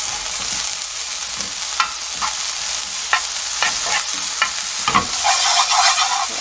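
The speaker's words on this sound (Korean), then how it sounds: "기름은 많이 안 넣고 조금만 넣고 고추가 볶아질 만큼만 넣겠습니다" Green chili peppers stir-frying in a small amount of oil, a constant bright sizzle with scattered clicks and scrapes of a utensil stirring the pan, close and steady, with no speech.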